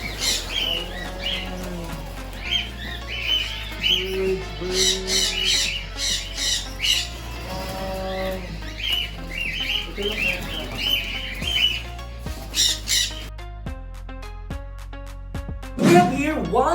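Colorful pet birds in a keeper's aviary squawk loudly and repeatedly at close range, harsh calls overlapping with chirps and some music-like tones in the background.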